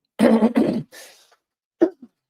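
Two sharp coughs, then a brief throat clearing, followed by a couple of short, quieter cough bursts close to the microphone.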